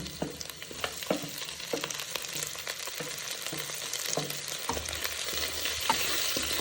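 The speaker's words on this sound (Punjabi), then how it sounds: "ਇਹਨਾਂ ਪਿਆਜ਼ਾਂ ਨੂੰ ਥੋੜਾ ਥੋੜਾ ਬਰਾਊਨ ਕਰਾਂਗੇ" Onions browning in a pan with potatoes to follow, a steady sizzle broken by repeated light scrapes and taps of stirring, close and moderately quiet, with no voices.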